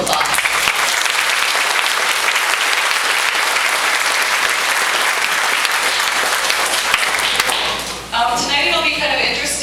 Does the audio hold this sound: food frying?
no